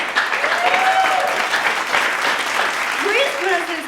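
An audience at a late night talk show breaks into applause, a continuous wash of clapping with voices and brief cheers heard over it.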